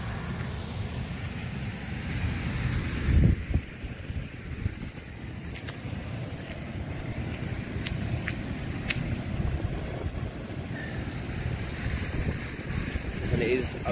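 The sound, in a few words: heavy rain on a tent during a wild camp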